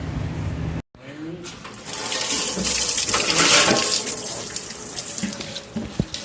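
Old orange coolant drains from the engine block of a 2000-2006 Chevy Suburban 1500 4x4 with the 5.3 V8 after the petcock is removed, a steady splashing rush of liquid heard close up after a brief dropout.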